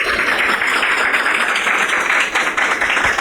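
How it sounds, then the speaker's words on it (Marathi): Audience applause for the armed forces at a live music performance, dense sustained clapping from a large crowd filling the whole stretch, loud and even with no pauses. "मी सगळ्यांना पहिली विनंती केली की आपल्या आर्म फोर्सेससाठी सगळ्यांनी टाळ्या वाजवाव्या."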